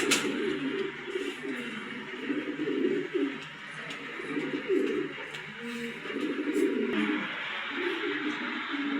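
Several pigeons coo in low, throaty, overlapping bursts that repeat steadily throughout, close by in a loft, with a constant background hum and some faint chirps.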